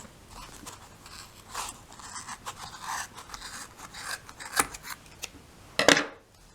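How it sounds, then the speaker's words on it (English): Scissors snip through yarn in a quiet room, a series of close, crisp cuts and rasping slides with irregular spacing, the last couple of snips sharper and louder. "we're going to take our scissors again"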